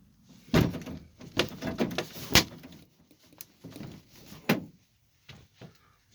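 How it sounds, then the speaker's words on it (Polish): Camper van door handle tried repeatedly against an anti-theft lock, giving a string of close, sharp clunks and rattles in short bursts with brief pauses, no talking. "Drzwi nie idzie otworzyć."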